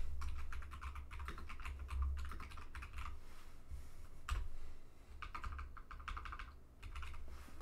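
A username is typed on a computer keyboard during a Fedora 43 install, with bursts of quick, close key clicks separated by short pauses and no talking.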